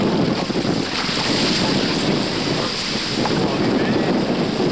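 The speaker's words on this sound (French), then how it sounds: "Il y a du vent, tout ce qu'il faut." Strong wind and rushing water roar steadily at sea aboard a Hobie Cat sailing catamaran during a 1986 transatlantic crossing. The noise is loud and constant, with a voice speaking briefly over it.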